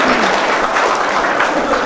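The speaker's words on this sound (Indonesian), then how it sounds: "Tepuk tangan dong ini ya." Brief burst of audience applause inside a mosque during a sermon, dense clapping from a crowd lasting under two seconds.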